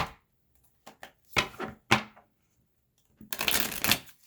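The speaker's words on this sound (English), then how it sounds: "One more shuffle, I think, after this one." Tarot cards shuffled by hand in a few separate bursts: brief riffles and soft slaps, then a longer, louder riffling run near the end, close and with no talking.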